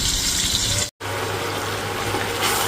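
Marinated mutton tipped into hot oil already holding tomato, giving a loud, steady sizzle and hiss that breaks off for an instant, then carries on strongly and evenly.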